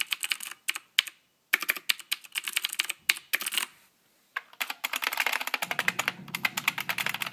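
Bursts of rapid clicky keystrokes on a CM Storm QuickFire Rapid mechanical keyboard with Cherry MX Green switches, broken by short pauses, then a faster continuous run of typing close up.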